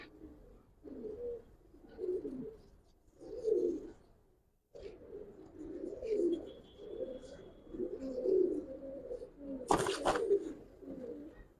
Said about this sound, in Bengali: সবই এক গাইশের কবুতর।